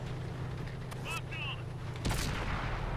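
Heavy tank cannon fire in a World of Tanks match with a T-34-85, a sharp booming shot near the end over background battle noise, with voices chatting.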